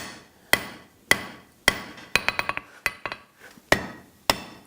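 A hammer forging the taper of a hatchet on an anvil, sharp ringing metallic blows spaced about half a second apart, with a quick burst of lighter taps in the middle, close and clear without talk.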